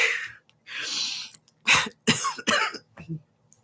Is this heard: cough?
yes